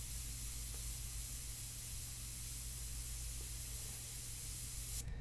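Airbrush spraying India ink onto paper during portrait work, a steady close hiss that runs unbroken for the whole stretch and cuts off abruptly at the very end.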